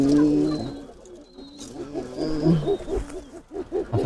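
A male pigeon coos inside a cage, a series of low rolling throaty coos repeating in uneven bursts, fairly close with some background noise.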